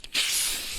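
Compressed air blasts dust off a Weber MasterTouch charcoal grill being rebuilt: one short, loud, sharp hissing burst that starts abruptly after a faint click and holds steady for under a second.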